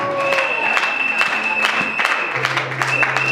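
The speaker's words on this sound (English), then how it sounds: "Clap that for Jesus" A church congregation at a Sunday prophetic ministry service claps in rhythmic bursts, with cheering and loud crowd noise filling the space and some voices mixed in.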